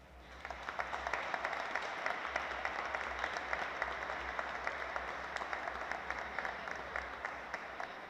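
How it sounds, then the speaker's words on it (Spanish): A congregation at Sunday Mass applauds, with individual claps distinct in a steady, moderately close rhythm over a low background hum, lasting about eight seconds without talking. "Le damos un fuerte aplauso."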